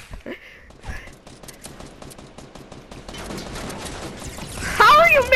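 Video game gunfire comes in rapid bursts of repeated shots, rising into a denser, louder volley near the end, mixed with game noise and voices.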